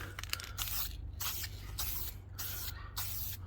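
An aerosol spray paint can lays down light dusting coats on a Mitsubishi Mirage Asti ZR 1996 car part, giving five or six close, loud hissing bursts of about half a second each with brief gaps between them.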